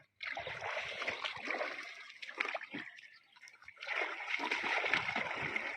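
A baby elephant splashes water in a basin, sending out repeated sloshing bursts that pause briefly midway and then resume, close and fairly loud.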